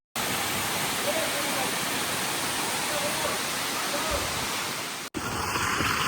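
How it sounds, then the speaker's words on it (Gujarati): Jogini Waterfall near Manali sends clean water rushing down in a steady, loud roar of broadband white noise, briefly cut off near the end before resuming. "ઉપરથી ત્યાંથી વોટરફોલ આવે છે અને પાણી જોવો સાહેબ કેટલું ક્લીન છે."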